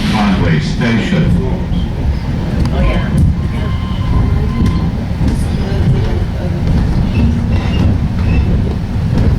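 A White Mountains scenic train rolls along its rails with a loud, continuous rumble and faint clickety-clack, while a narrator speaks over the noise.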